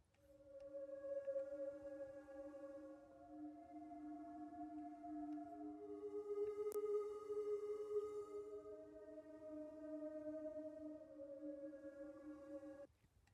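A synth pad made for a song verse, with sustained tonal notes that glide slowly between pitches over a soft layer of hum-like noise, steady and fairly quiet for about thirteen seconds before cutting off.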